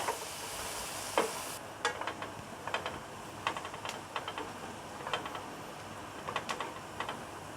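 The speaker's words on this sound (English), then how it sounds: "First thing, we have to brown this onion. We saute it with butter," Onion browning in melted butter, heard as a faint background sizzle broken by intermittent scraping and stirring clicks from a utensil against the pan.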